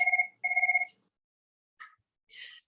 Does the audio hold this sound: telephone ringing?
yes